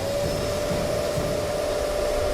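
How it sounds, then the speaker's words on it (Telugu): A cartoon vacuum system switched on gives a loud, steady whirring drone with a constant tone, unbroken and without any voices. "వాక్యూమ్ సిస్టమ్ ఆన్ చేయండి."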